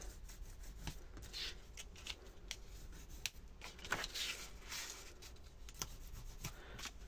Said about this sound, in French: Et on va venir marquer du coup nos plis